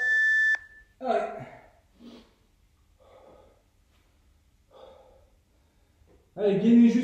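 A sharp electronic workout timer beep opens the moment, a steady tone during a bodyweight home full-body session, followed by a person talking and breathing hard between gaps.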